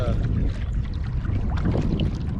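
A Bixpy Jet J2 electric motor pushing a fishing kayak at half throttle, heard as a steady, loud rush of water and wind noise against the mic with no clear motor whine above it.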